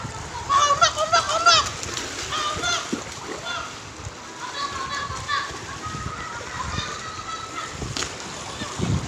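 Floodwater splashing and sloshing in a flooded neighbourhood in Bekasi, Indonesia, with a voice chattering over it and brief bird-like chirps in the background.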